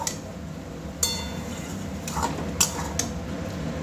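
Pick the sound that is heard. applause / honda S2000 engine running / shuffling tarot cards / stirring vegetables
stirring vegetables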